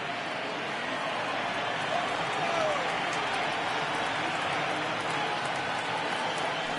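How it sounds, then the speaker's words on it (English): Baseball stadium crowd at a Reds at Pirates MLB game rising and cheering on a full 3-2 count, a steady broadband roar of many voices and scattered clapping that swells slightly midway and stays loud throughout. "Crowd gets up for the 3-2."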